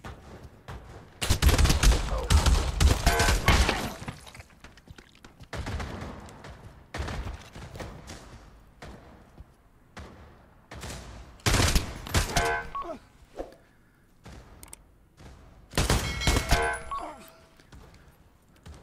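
Bursts of rapid gunfire in the VR shooter Pavlov, played offline in gun mode on PSVR2, coming in several loud clusters of automatic shots with quieter gaps and faint clicks between them.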